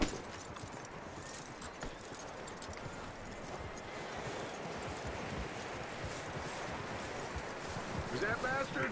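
Horse hooves clop in Red Dead Redemption 2 as a horse moves along, a faint, rhythmic clip-clop under wind-like ambience, with quiet talk mixed in.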